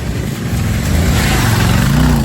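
A Royal Enfield Himalayan motorcycle roars past at close range, its loud, steady engine drone swelling over continuous rushing wind on a mountain road.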